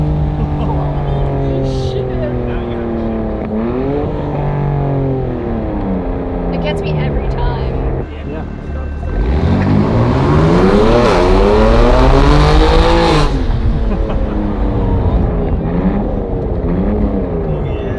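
A BMW G80 M3 Competition fitted with an iPE exhaust revs hard, its engine note climbing and falling in repeated sweeps before swelling into a louder, rasping surge, with people talking over it.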